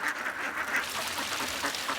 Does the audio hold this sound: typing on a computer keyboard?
no